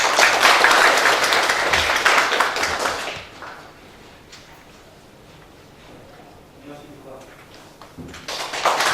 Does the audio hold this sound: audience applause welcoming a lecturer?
yes